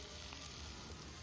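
Chopped tomato sizzles steadily in hot oil tempering for a Karnataka-style stuffed brinjal curry, a dense continuous hiss and crackle with no voices.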